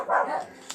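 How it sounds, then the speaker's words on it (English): Several pet dogs give one short, sharp bark, fairly close and loud, with a faint yip at the very end. "They just bark at everything."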